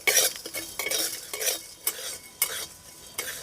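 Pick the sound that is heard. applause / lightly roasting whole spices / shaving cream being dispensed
lightly roasting whole spices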